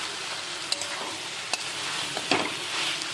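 Banana flower being stirred and fried with prawns in a pan, a steady broad sizzle with a few sharp scrapes and clinks of a spatula against the pan, fairly close and alone with no talking.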